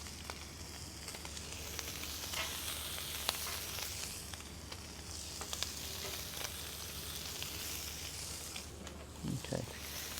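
Lamb chops sear on a hot oiled griddle with a steady, dense sizzle that fills the whole stretch, close and constant, with a few faint clicks and scrapes on top.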